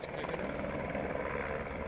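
Over the Albufera wetland, a helicopter is heard with continuous rotor thrum and engine noise at steady, moderate loudness, with no speech.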